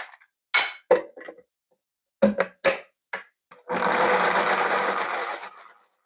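A blender whirs through lemon, vinegar and chickpeas for Egyptian hummus. A few sharp clinks come first, then a steady, close motor whir runs for about two seconds before winding down.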